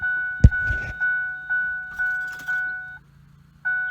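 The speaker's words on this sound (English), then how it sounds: "So that starter is trying to turn, it's just not able to." A 2004-2008 Ford F-150 starter struggles but fails to crank: repeated roughly half-second electrical clicks and a steady whine pulse on and off, each attempt cutting out, with one sharp thunk near the start, close and fairly quiet.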